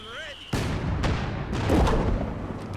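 A mortar half-track firing in Company of Heroes 2: a sharp launch boom followed by rumbling battle noise and further distant thuds. Game effects can be heard in the first half-second, then the boom hits and the rumble sustains.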